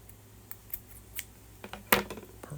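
Scissors trim a yarn tail on a crocheted bucket hat, giving a few quiet, crisp snips spaced apart and one sharper, louder cut near the end.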